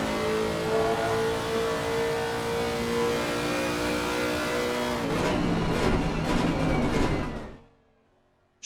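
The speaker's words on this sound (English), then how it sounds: "Truly a beautiful engine note, NASCAR-esque if I dare say so myself." A Lexus RC F race car with a 5.4-litre engine, driven at Kyalami in Assetto Corsa Competizione, accelerating hard in a sustained loud roar that climbs steadily through the gears, then cuts out abruptly near the end.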